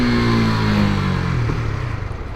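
A KTM Duke 250 ABS motorcycle engine accelerates, its mid-pitched drone rising then easing off as the tone drops away, loud and close with no talking.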